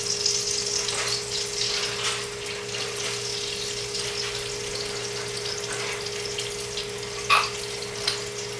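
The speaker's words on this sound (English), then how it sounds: "So here's our fish. Get it into the pan. That has a little bit of extra virgin olive oil and butter in it." Tilapia fillets fry in a pan of extra virgin olive oil and butter, with a continuous close hiss and sizzle and a couple of sharp spits near the end.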